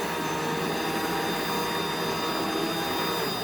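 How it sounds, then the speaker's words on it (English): Vacuum cleaner running with a powerhead attachment, a steady loud whooshing motor roar with a faint high whine, continuous and close throughout. "So you can quickly go from the Powerhead to other attachments while you're cleaning."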